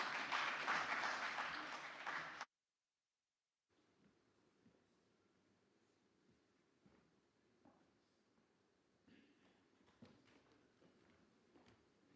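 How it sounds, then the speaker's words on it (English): Audience applause at an annual meeting welcomes panelists onto a stage, a loud burst of clapping that cuts off abruptly into near silence, followed by faint room noise and scattered footsteps. "Please welcome on stage. A round of applause, ladies and gentlemen."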